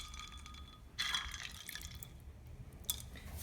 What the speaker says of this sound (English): And then we're going to add a bit more